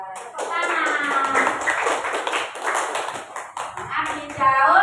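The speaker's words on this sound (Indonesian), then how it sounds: "Tepuk tangan." A fifth-grade Islamic education class claps hands in quick, uneven bursts, mixed with children's voices speaking and calling out close by.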